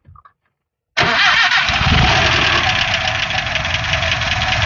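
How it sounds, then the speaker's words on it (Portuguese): After a brief silence, a vintage car engine starts abruptly and settles into a loud, steady running rumble close by. "E o barulho desse motor aqui, Alexandre?"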